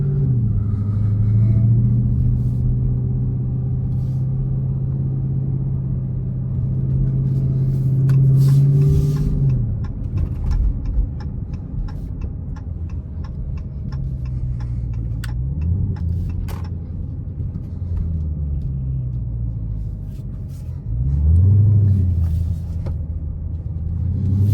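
A Dodge Challenger Hellcat driven at night, its engine droning with a high supercharger whine that rises and falls as it accelerates and eases off, heard from inside the car with occasional clicks and no talking.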